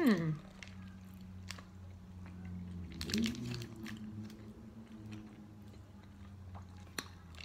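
Someone chews a Quest chocolate chip cookie dough protein bar up close, soft squishy mastication with faint crunchy bits and occasional small clicks over a low background hum.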